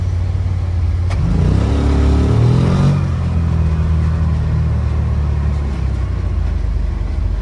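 A side-by-side utility vehicle on a Florida SxS and go-kart track: its engine climbs into a loud rev for a couple of seconds, then settles back to a steady, close running drone.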